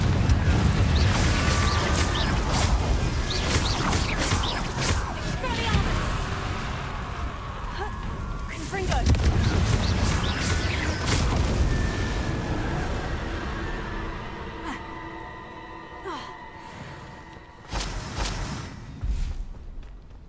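A Confringo explosive spell goes off in Hogwarts Legacy with heavy booming thumps and whooshing bursts, loudest at the start and again midway, fading into quieter game ambience with sparse chiming tones.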